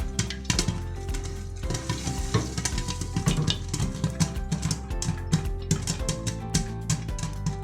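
A pan of popcorn shaken on the stove while it cooks, giving a steady dense rattle and scraping of kernels with constant sizzling, close and continuous with no talk.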